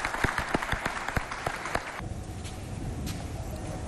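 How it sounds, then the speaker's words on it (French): Studio audience applause on a Chadian television talk show, a burst of crowd clapping with sharp individual claps that soon fades into a softer, steady murmur of hands and room noise. "On applaudit s'il vous plaît très très fort pour elle."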